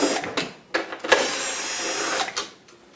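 A screwdriver works screws out of a Technics SX KN-3000 synthesizer keyboard, giving a few short scraping and clicking bursts, then a sustained grinding turn lasting about a second, close and fairly loud with no talk.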